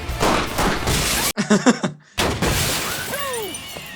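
Windows breaking during a police chase scene with gunshots, sharp bursts of shattering glass and crashing debris, loud and close, with a brief near-silent gap before more tumbling crashes and squealing sounds.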